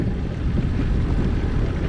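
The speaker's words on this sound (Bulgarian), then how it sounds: "Вятъра не е оттихнал." Strong wind rumbling steadily at Ivaylovgrad reservoir while out catfish fishing, a loud, continuous low buffeting across the microphone with no speech.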